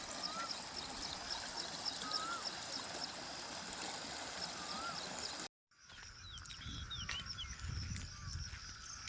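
Steady rushing of a rain-swollen village river fills the scene, with a brief cut midway, then continuing flow with scattered bird calls over it.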